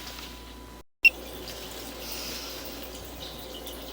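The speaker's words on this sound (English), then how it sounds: "Okay, we flushed the toilet." Water from a flushed toilet runs through a house drain line, a faint steady trickle and drip heard close, with no speech.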